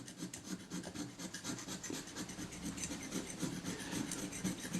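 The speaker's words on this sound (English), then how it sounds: "So I'm scraping off all the dry solids, if you like, off with a scalpel." A scalpel scrapes dried old glue and white corrosion off a Kodak Retina Reflex S camera body, a fine, steady rasping in short repeated strokes, close and quiet.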